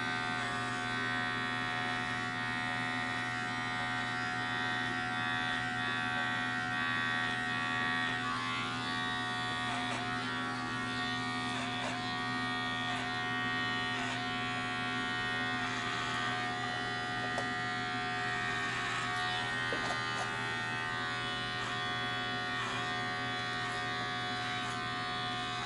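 Electric hair clippers buzz steadily during a taper haircut, a continuous close-up hum with small shifts as the blades move across the hair.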